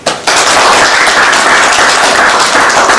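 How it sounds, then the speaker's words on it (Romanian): Audience applause at a cultural hall conference on ecotourism, a dense, steady burst of clapping that starts abruptly and holds loud and even throughout, with no talk over it. "să-l aplaudăm"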